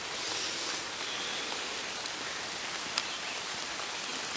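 Steady rain patters continuously on surfaces, a soft, even hiss with no voices and only a faint tap near the end.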